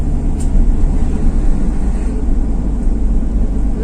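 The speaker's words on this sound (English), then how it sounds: "Currently driving on a country road." Steady low engine and road rumble from a Corvette cruising along a country road, loud and constant from inside the car with no breaks.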